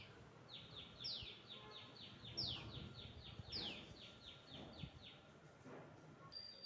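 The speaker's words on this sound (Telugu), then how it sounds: "చిన్న చిన్న పిట్టలు అరుస్తున్నాయండి ఇక్కడ." Small garden birds chirp in a repeated series of quick, high, descending calls, fairly faint against low outdoor background noise, with no talking.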